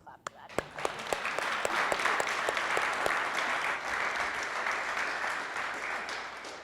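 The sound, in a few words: audience applause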